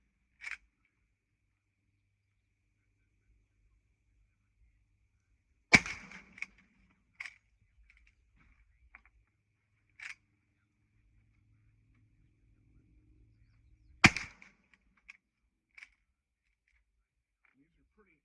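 Two sharp, loud gunshots from a Rossi R92 .357 Magnum lever-action rifle firing mild loads, spaced about eight seconds apart, each followed by smaller metallic clicks and clatter of the action.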